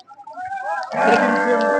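Cattle low at a busy Qurbani cattle market in Hazratpur, Bangladesh: a drawn-out moo swells and grows louder near the end, with faint market bustle around it.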